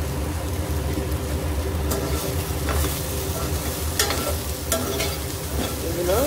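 Okra stir-frying in a pan, a steady broadband sizzle with intermittent scraping stirs and clinks, close and continuous throughout.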